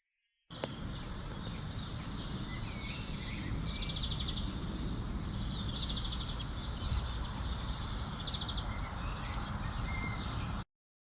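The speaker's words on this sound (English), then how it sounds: "woke up to the most beautiful bird sounds I've ever heard" Morning birdsong at a villa near Rome: several birds chirp and trill high and fairly distant over a soft, steady outdoor background hiss, with no talking.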